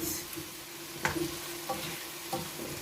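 Chopped tomato dropped into a hot pan while cooking a cassava-flour recipe, giving a soft, quiet sizzle with a few light stirring clicks and scrapes over a steady frying hiss.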